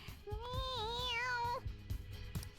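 A cat meows once, long and close, with a sliding pitch, in the video game Persona 5 Royal, while quiet footsteps and game sounds tap underneath.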